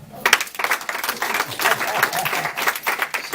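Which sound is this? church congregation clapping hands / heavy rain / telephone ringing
church congregation clapping hands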